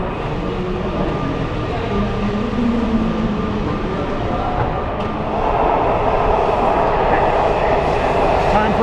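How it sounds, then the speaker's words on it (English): Subway train at a station platform, a steady broadband rumble and rolling rail noise that swells louder partway through, with voices talking over it. "let's get on this subway."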